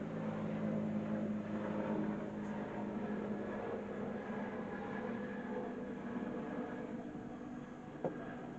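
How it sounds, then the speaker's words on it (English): Helicopter flying overhead, a steady low droning rumble with a throbbing hum that stays constant throughout, with no talk over it. "Every time I make a video now, it seems like helicopters show up."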